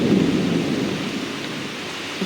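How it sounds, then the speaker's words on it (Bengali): Thunder rumbles from a dark storm sky before any rain falls, a deep, loud, continuous roll that slowly fades without any voices. "বৃষ্টি তো হচ্ছে না, মেঘ ডাকছে আর এ হচ্ছে।"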